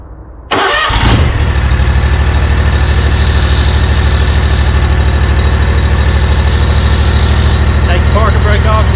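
A 2023 Bad Boy Revolt mower engine cranks, catches and settles into a steady, loud idle that runs to the end.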